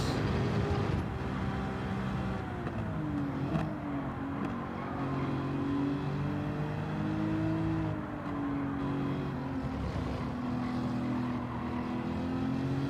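A Toyota Supra engine in Gran Turismo 7 revs and shifts continuously, its pitch rising and falling through gears in a steady, close racing drone.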